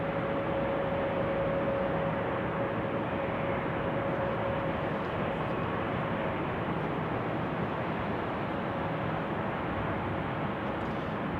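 A departing airliner climbs out of Salt Lake City airport, a steady broadband roar of jet engine noise holding evenly throughout, fairly distant and unbroken, with no talk over it.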